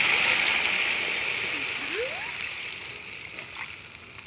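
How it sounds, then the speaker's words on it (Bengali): Water poured into a hot pan of frying spices, a steady rushing hiss and splashing pour close up, gradually easing in loudness, with a brief rising tone partway through. "এখন জল দিয়ে দেব।"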